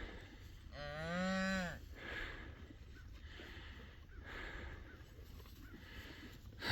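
A cow in a pasture gives one loud, clear moo near the start, rising and falling over about a second, with a newborn calf nearby. Quieter rustling and outdoor background continue after it.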